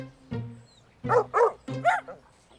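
Dogs being walked in a Brazilian Portuguese Caillou cartoon, giving a few close, clear barks in short separate bursts, one single then a quick run of three.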